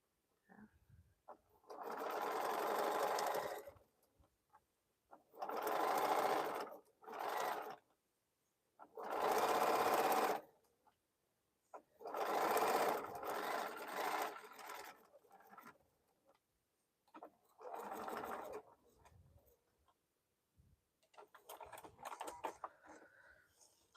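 A sewing machine stitching fabric bowl cozies runs in about seven separate bursts of rapid, even needle chatter, each a few seconds long, with quiet pauses between while the fabric is repositioned.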